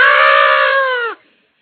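A voice mimics the shriek of a possessed girl, one loud, sustained, high-pitched scream held for about a second before cutting off sharply into silence.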